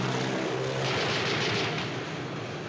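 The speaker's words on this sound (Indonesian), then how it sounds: "Pesawat itu berbalik datang ke arahnya sekali lagi." A propeller airplane swoops in and roars close overhead before passing by in a chase scene from the film North by Northwest, a loud, brief sweep of engine noise with no voices.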